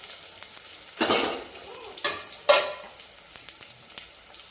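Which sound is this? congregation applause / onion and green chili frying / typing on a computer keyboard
onion and green chili frying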